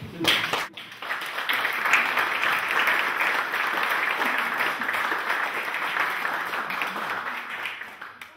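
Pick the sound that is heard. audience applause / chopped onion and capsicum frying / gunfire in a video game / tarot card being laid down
audience applause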